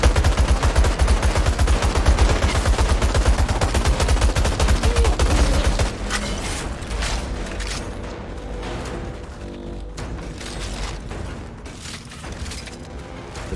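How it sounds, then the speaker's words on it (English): A minigun in a video game lets loose a dense, continuous rattle of rapid fire that is loud for about six seconds. It then drops to quieter, scattered bursts and mechanical clatter. "that minigun"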